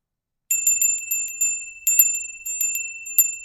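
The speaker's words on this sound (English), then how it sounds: "Is that the dinner bell?" A small bright bell, like a dinner or bicycle bell, rings in two quick bursts of rapid clear dings with a short pause between, close and alone.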